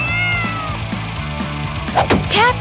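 A cat meows loudly and close by in a string of drawn-out, wavering calls, some rising into strained caterwauling, with no speech.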